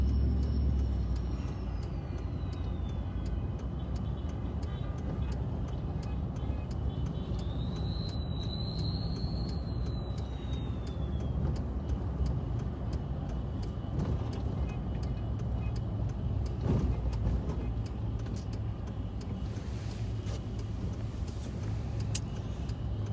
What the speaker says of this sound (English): Just another fun day driving around the airport, guys.